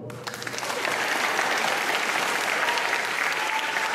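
Audience applause at a literary event rises quickly from a few claps into steady, dense clapping that continues evenly at moderate volume throughout.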